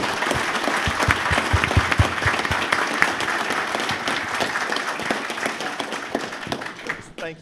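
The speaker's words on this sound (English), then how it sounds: "Round of applause for Albert Charpentier, everybody." Audience applause at a panel of former Commodore employees, a dense, close round of clapping that holds steady for several seconds before thinning out at the end.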